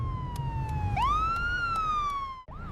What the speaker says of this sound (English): I hear an ambulance siren back us